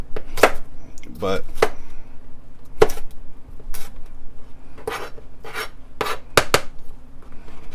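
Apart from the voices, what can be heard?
knife chopping vegetables on a cutting board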